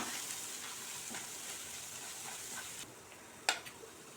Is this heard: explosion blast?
no